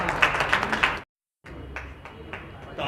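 Audience applause at a party foundation-day celebration, a run of sharp overlapping claps that cuts off abruptly, followed after a short silence by a thinner, scattered patter of claps.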